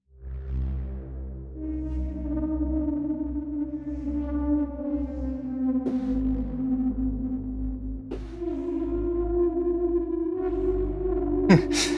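A distorted synth patch from the Rift plugin sustains harmonic tones for about twelve seconds, with a few pitch changes and a slightly detuned, crunchy edge. A sharp burst near the end.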